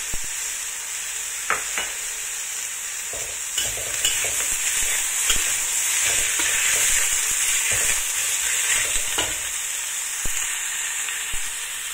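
Dried and fresh chili frying with bitter melon in a pan, a steady loud sizzle with scraping stir strokes throughout, no voices.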